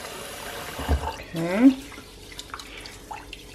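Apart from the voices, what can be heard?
rinsing rice with tap water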